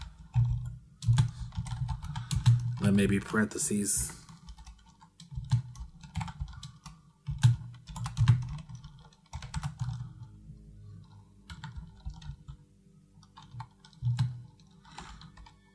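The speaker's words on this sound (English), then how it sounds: "And I'm typing slowly, sorry." Keyboard keys clacking in uneven bursts during slow typing while creating a Pathfinder RPG character, close and fairly quiet, with a few brief spoken words.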